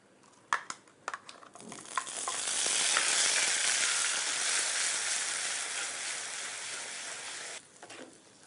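Ground spice paste dropped into hot oil for bottle gourd saaru, a few sharp clatters then a loud, steady sizzling hiss that swells and slowly fades.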